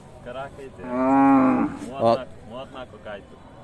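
A cow lets out a long, loud moo nearby at a crowded livestock fair, followed by a shorter low call and some faint background voices.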